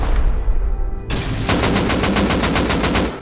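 Automatic gunfire in Rust, a rapid, evenly spaced burst of about a dozen loud shots after a short lead-in of rumbling ambience.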